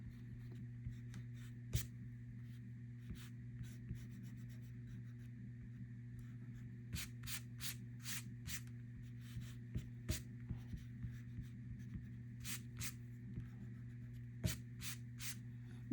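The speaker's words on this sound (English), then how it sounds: "I will erase all my guidelines." A pencil eraser rubbing out guidelines on a paper frog drawing, heard as bursts of quiet scratchy strokes in quick clusters over a steady low hum, with no talking.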